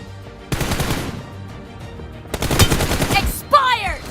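Two bursts of rapid automatic gunfire ring out in a shooting video game, each lasting about half a second to a second, loud and close, with a brief chirping game effect at the end and no talking.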